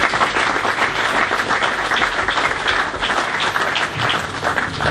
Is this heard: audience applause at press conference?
yes